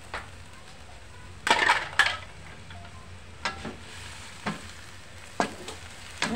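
Broccoli goes into a hot pan with shrimp, carrots and peas, giving a close, steady sizzle broken by several sharp scrapes and clacks of a utensil against the pan, with no talking.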